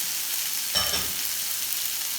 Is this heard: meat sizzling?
yes